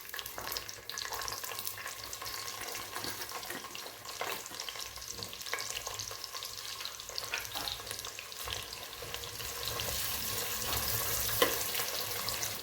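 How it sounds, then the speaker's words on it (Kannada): Medium-sized onions cut lengthwise frying in a pan for a breakfast menthe bath, a close continuous sizzle with occasional stirring scrapes throughout. "ಈಗ ಈರುಳ್ಳಿ ಫ್ರೈ ಆಗಿದೆ ನೋಡಿ"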